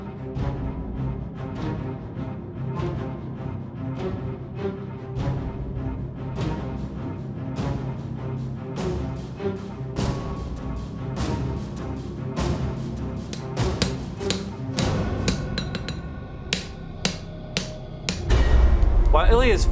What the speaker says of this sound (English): Now that we have our bar forged out to length, it's time to start laying in those edge bevels.